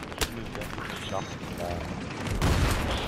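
Gunfire in the military video game Arma: a few sharp shots and booms scattered over about three seconds, growing somewhat heavier toward the end, with voices talking over them.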